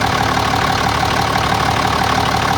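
A tractor engine idles steadily and loudly up close, a constant mechanical drone with faint knocking texture throughout and no speech.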